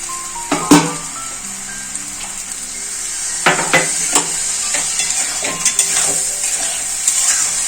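Ground fennel, ginger and green chili masala sautéing with soft tomato in a pan, a steady hiss of sizzling with scattered stirring clatters throughout, no voices.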